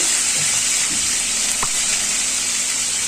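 Onion paste and ginger hiss in hot oil in a kadai, a dense, loud, steady sizzle that fills the whole stretch with no pauses.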